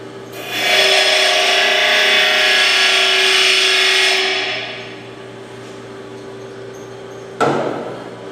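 Stainless steel test piece ground on a grinder to throw sparks, a loud steady abrasive rasp lasting several seconds then easing off, followed by a brief sharp contact near the end.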